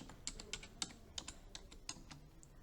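Quick, irregular keystrokes on a computer keyboard while filling in a Word document, a run of light clicks at a steady typing pace, faint and close.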